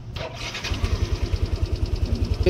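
A motorcycle engine cranks and catches, then settles into a steady, pulsing idle close by.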